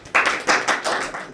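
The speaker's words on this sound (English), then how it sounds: "A big round of applause" Short burst of clapping greets a speaker being called to the podium at a technical institute's Republic Day event, coming in uneven waves of claps, fairly close and moderately loud, with no talking over it.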